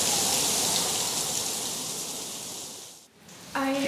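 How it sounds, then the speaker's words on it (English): Heavy rain pours down steadily in Montenegro, a dense, close hiss like water gushing, loud and continuous before briefly dipping and resuming. "It started raining very heavily."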